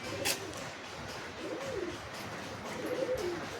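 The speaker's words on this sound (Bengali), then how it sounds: "টেডি পায়রা পাকিস্তানের" A Pakistani teddy pigeon coos nearby, a few soft rolling calls over steady background noise.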